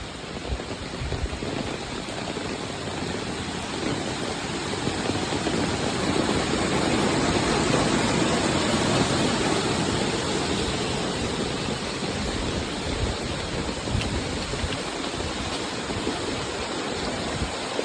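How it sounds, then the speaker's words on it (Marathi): Water rushes steadily and loudly over a village bridge in heavy Konkan monsoon rain, a constant broadband roar of fast-flowing floodwater with no other sounds standing out. "मोठं पाऊस पडलो की हा पुलावरून पाणी जाता"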